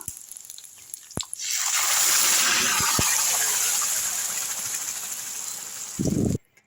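Fried garlic tempering hits cooked kumatti greens with a sudden loud hiss that slowly fades over several seconds, ending in a short, muffled scrape up close.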